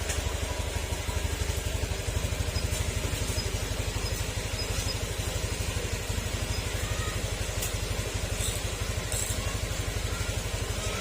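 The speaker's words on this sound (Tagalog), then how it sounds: "Hindi natin papatayin yung makina sa loob ng 15 minutes." A well-worn Honda Beat FI scooter engine idles steadily after an ECU replacement and TPS reset, with a close, even, rapid mechanical pulse that runs without a break.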